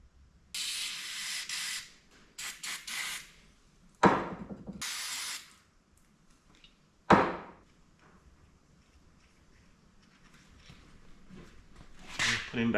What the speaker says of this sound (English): Might just get some brake cleaner on it and give it a blast